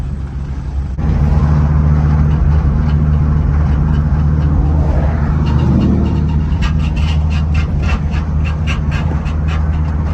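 Steady, loud cabin drone of a Honda Civic with a K20 engine swap cruising in sixth gear, a constant low engine and road hum that continues throughout without talking.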